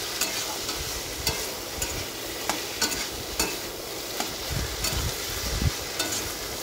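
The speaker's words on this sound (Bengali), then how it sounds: "এখানে চচ্চড়িটা হয়ে গেছে, এর মধ্যে এবার মাছটা দিয়ে দেবো।" Fish goes into a simmering vegetable chorchori in a village kitchen, giving a continuous close sizzle broken by regular stirring scrapes and knocks, with no talk.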